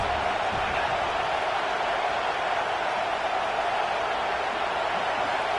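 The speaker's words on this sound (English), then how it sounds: "This crowd trying to make life miserable for this offense." A football stadium crowd roars as one continuous, even wash of noise, trying to rattle the opposing offense. The din holds steady without distinct peaks.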